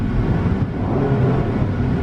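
A 2016 Dodge Dart SXT engine gives a steady, loud low rumble, heard from inside the car with no talking.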